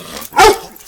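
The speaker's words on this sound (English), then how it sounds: "Why are you barking?" A dog lets out a single short, sharp bark at close range, loud against a quiet background.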